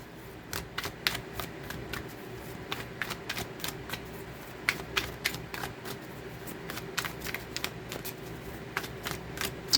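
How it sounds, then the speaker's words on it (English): A deck of tarot cards is shuffled by hand, giving soft, quick riffling and flicking bursts in an irregular rhythm over a quiet room background, fairly close and with no talking. "Let's get a good shuffle."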